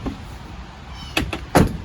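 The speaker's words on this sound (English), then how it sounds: "my driver's side door on my truck and on my trailers, they open and close properly" Truck driver's side door worked on its hinges, two sharp mechanical clunks of the latch and slam near the end over steady outdoor hum, close and loud.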